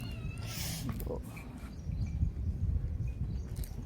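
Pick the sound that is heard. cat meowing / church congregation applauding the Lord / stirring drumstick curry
cat meowing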